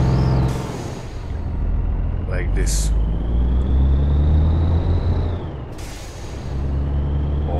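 A Volvo VNL 780 truck engine of 750 horsepower in Euro Truck Simulator 2 rumbles deep and steady as it accelerates, a loud low drone running beneath a voice throughout, with a brief hiss near the middle.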